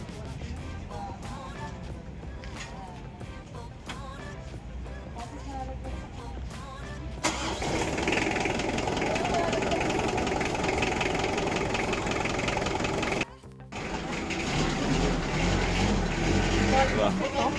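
A Mitsubishi Adventure engine, fitted with a new accelerator cable, cranks over and settles into a steady, loud idle that runs on, with a brief dip and then a return to a constant hum.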